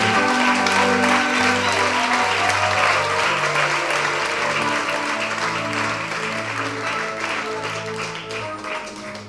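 A church congregation claps loudly and steadily together for nearly ten seconds, the dense applause gradually tapering off toward the end with no talk over it.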